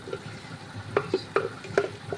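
Food is stir-fried in a pan, a spatula scraping through it in a few quick, distinct strokes over a soft background sizzle, close and fairly quiet.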